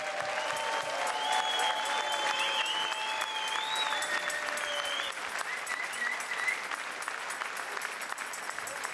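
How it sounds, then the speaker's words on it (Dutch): Sustained crowd applause for the Limburg champions at a Limburg carnival celebration, a steady dense clapping with faint whistles and cheers throughout, no voices rising above it. "Een applaus voor de kampioenen van Limburg"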